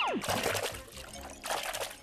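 A cartoon character jumps into a mountain river, giving a descending whistle and then a watery splash and pouring spatter that swells again near the end, fairly close.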